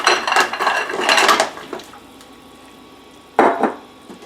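Seafood pieces such as mussels or scallops for a seafood stew tumble into a cooking pot, giving two bursts of wet clattering and splashing, with a quiet gap between them.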